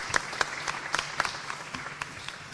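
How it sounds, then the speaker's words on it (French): Light audience applause at a regional data-labelling conference, a thin scatter of claps rather than a full ovation, soft and somewhat distant with a steady murmur beneath. "on peut applaudir, tout à fait"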